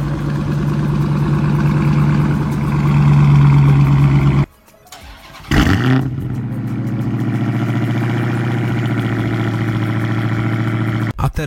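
A Dodge Hemi 5.7 V8 cranks and fires up after a brief pause, the engine catching with a sharp revving flare before settling into a deep, steady idle rumble, close and loud.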